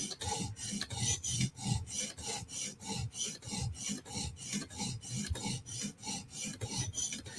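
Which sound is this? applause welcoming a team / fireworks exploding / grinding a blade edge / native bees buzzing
grinding a blade edge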